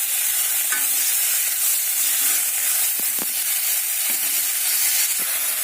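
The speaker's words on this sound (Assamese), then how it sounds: "পিয়ালি পালেংখিনি ভালকৈ ভাজি ল'ব লাগিব আৰু এইখিনি ভাজি হৈ গৈছে মই ইয়াতে কাটি লোৱা বিলাহীখিনি দি দিছো" Spinach and chopped tomatoes fry in a pan with a steady, close hiss and sizzle, broken by a few stirring scrapes and taps.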